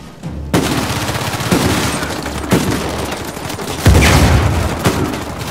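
Gunfire in the video game Uncharted 4 comes as a run of loud, close bursts and booming shots spaced roughly a second apart, with a dense rumbling layer underneath and no voices.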